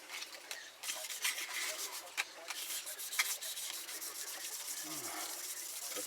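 Hand rubbing with 2000 grit sandpaper on Suzuki Bandit 1200 motorcycle rearsets makes quiet, uneven scratchy strokes in bursts, with a few sharper scrapes and faint background noise.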